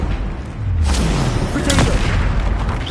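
Booming blasts from the Bombarda spell in the video game Hogwarts Legacy, two heavy broadband bursts close together over a rumbling backdrop, with a voice speaking over them.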